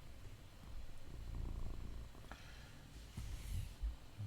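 A cat purrs close by in a quiet room, a low continuous rumble with soft rhythmic pulses, alone with no talk.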